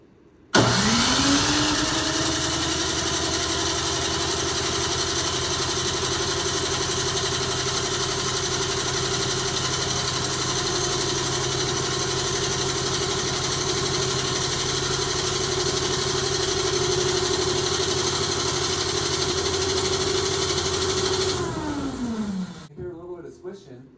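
A salvaged snow blower engine starts and runs steadily at a loud, even roar for about twenty seconds, then shuts off and winds down.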